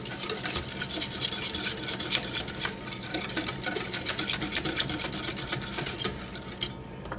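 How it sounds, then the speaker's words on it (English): A whisk beats a Dijon, dill and apple cider vinegar dressing in a bowl, producing rapid, rhythmic scraping and ticking strokes close up, steady and uninterrupted throughout. "Let's give this a whisk."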